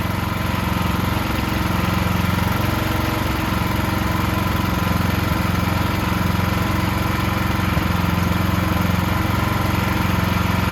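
A standby generator engine keeps running just after its fuel is shut off, a loud, close, steady drone with a constant low throb and broad mechanical roar that holds without pause.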